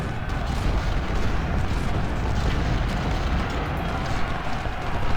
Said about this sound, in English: Let's also order our 12 pounders to shoot him.